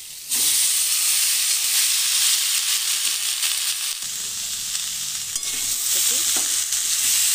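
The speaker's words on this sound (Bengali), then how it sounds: "এবার এর মধ্যে আমরা কপি ডাঁটাগুলোকে দিয়ে দেবো।" Cauliflower stems stirred in a hot pan of oil and turmeric, giving a loud, steady sizzle and hiss with occasional scraping strokes of the spatula throughout.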